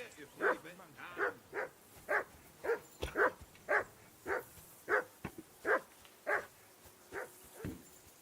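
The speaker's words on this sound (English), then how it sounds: "I assume you can hear that damn dog of yours barking." Dog barking in the medieval video game Kingdom Come: Deliverance 2, a steady run of about a dozen sharp, fairly close barks at roughly even intervals, with no other voices in between.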